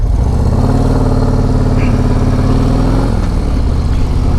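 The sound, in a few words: 2024 Harley-Davidson CVO Road Glide motorcycle engine while riding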